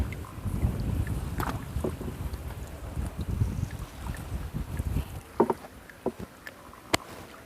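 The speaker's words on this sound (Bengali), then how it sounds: "জ্যোতিষবাবু হচ্ছে নৌকা চালাচ্ছেন তো আবার গুড়ি গুড়ি বৃষ্টি শুরু হয়ে গেছে" A boat being rowed while out fishing for koi, with low rumbling wind and water noise over light drizzle, ending in a few sharp knocks and splashes near the close.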